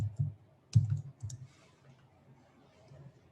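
A few sharp keystrokes on an Apple computer keyboard, a short burst of clicks near the start and then quiet, close and moderately loud with faint low room noise.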